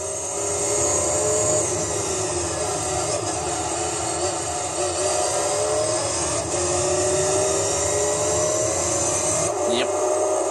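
Race car engine in Gran Turismo 3, a mid-engine car in a professional challenge race, roaring loud and steady through a headset for the whole stretch, with a brief dip near the end.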